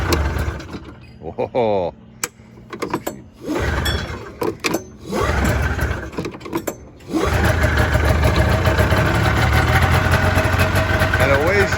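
A 1988 Indy Trail snowmobile with a 488 engine cranks with a few sputtering pulls, then catches and settles into a steady, loud, buzzing idle close by, with a brief exclaimed word during the starting attempts.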